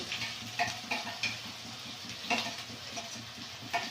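Onions fry in a pan with ginger and a chili, cumin and garlic paste, giving a steady soft sizzle with repeated sharp clinks and scrapes of a spoon stirring against the metal.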